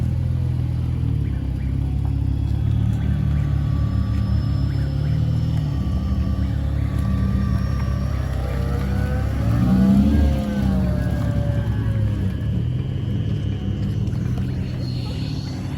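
A supercharged car engine at a car meet: deep, rumbling idle and revs with a rising whine toward the middle, fairly close, with crowd noise around it.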